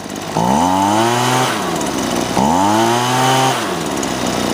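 A Husqvarna 125BV leaf blower's small two-stroke engine revs up twice from idle, each throttle burst climbing to a loud, close whine and falling back, with the engine idling between bursts.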